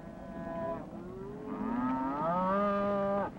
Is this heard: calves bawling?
yes